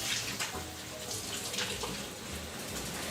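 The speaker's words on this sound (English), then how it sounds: "When I turn on the hot water." Hot water runs from a tap in a home kitchen fed by a gas water heater, a steady close rushing flow with a low rumble underneath, continuous and fairly loud for the whole stretch.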